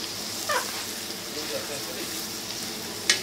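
Duck meat fries in a pan with a soft, continuous sizzle. A faint voice is heard, and a sharp clink sounds near the end.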